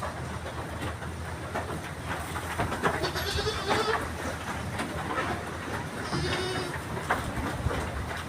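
Bligon or Jawarandu goats bleat inside a farm pen, with several wavering calls rising at intervals over a constant busy background of rustling and shuffling livestock noise, fairly close.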